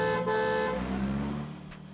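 A car horn gives a steady honk, breaks briefly, then honks again for about half a second before cutting off, leaving low road rumble underneath.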